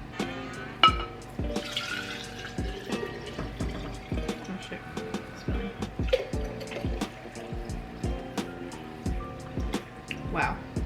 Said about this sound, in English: I'm just gonna pour it in my mason jar.